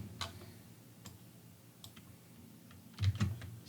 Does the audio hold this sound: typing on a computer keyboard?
yes